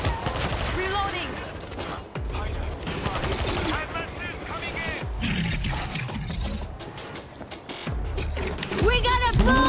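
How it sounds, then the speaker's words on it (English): Gunfire and weapon handling in the World War Z zombie shooter, with bursts of rapid shots, metallic clicks and clacks of a reload, and loud chaotic combat noise throughout, mixed with shouting voices. "Reloading!"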